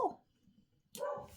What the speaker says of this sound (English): I'm sure you can hear my dog barking up a storm upstairs